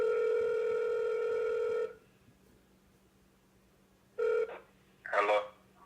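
A phone call on a burner app: a steady electronic ringback tone sounds for nearly two seconds, pauses, then a short repeat tone and a burst of warbling line noise, all fairly quiet.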